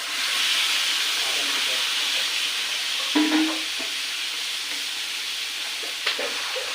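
Chicken pieces dropped into fried spice mixture in a pan for a home-made chicken curry, giving a steady close hiss of sizzling oil throughout, with a brief louder splutter and a few utensil clinks, and no talk.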